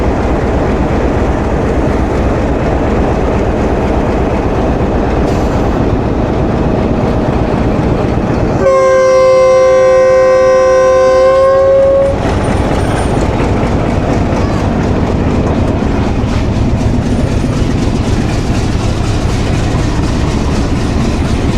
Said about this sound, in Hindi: ट्रेन बढ़ रही है अब आगे